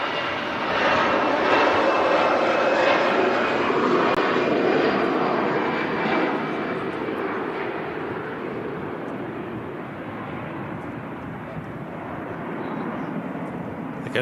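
An EasyJet jet airliner departing Manchester Airport, a loud sustained engine roar heard from a distance that slowly fades and eases over about fourteen seconds.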